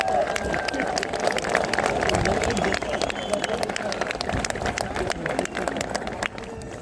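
Applause from an audience gathered for a Vendée Globe 2024 sailor's interview, a steady dense patter of many hands with crowd murmur and voices mixed in, fairly loud and sustained before easing slightly at the end.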